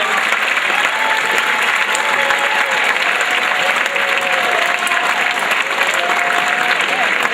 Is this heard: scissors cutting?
no